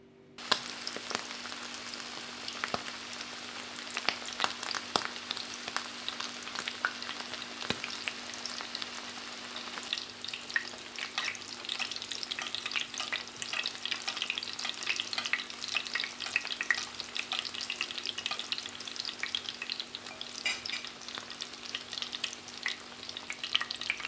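Breaded escalopes stuffed with mozzarella fry steadily in hot oil, giving a continuous dense sizzle with occasional sharper crackles and pops, close and alone, with no talk.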